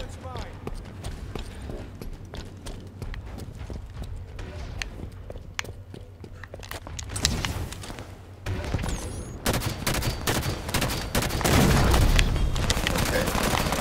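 Shotgun blasts and other gunfire in Halo 5: Guardians, arriving as scattered bursts during a firefight, with a player talking over much of it and heavy booming toward the end.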